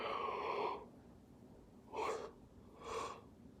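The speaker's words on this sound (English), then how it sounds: "Sorry for yawning so much," Breathy exhalations, a long airy yawn-like breath at the start followed by two shorter soft breaths, close and quiet with no talking.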